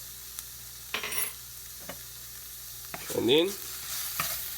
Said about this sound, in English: just mix it around in the hot pan